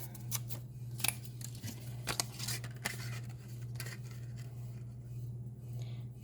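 Paper being cut while making a stamped songbird card with a Stampin' Up! stamp set and punch: scattered crisp snips and rustles over a steady low hum, close by, with no talking.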